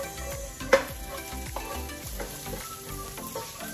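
Onions going into a pan of chicken curry in progress, with a steady sizzle, repeated stirring scrapes, and one sharp clank of a utensil near the start.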